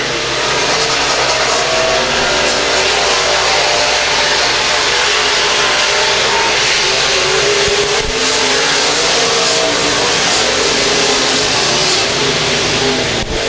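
B-Mod race cars on a dirt speedway during a heat race, engines roaring loudly and continuously as the pack runs single file down the back straightaway, with no voices over the noise.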